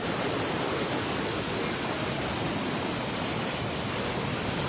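A waterfall at a fishing spot pours continuously, a loud broadband rushing roar that fills the whole clip without letting up.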